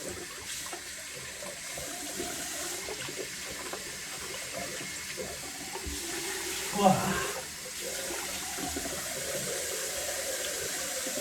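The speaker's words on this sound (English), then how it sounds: "Rinse off with some cold water." Cold tap water running while a face is rinsed after shaving: a steady splashing hiss with a louder gush of water near the middle, continuous and moderately close.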